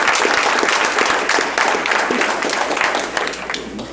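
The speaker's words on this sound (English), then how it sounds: "will all of you join me in a round of applause for Scott?" Sustained applause fills a meeting chamber as a committee honors a retiring colleague, dense steady clapping from a room of people holding at a fairly even loudness, with a faint voice or two mixed underneath.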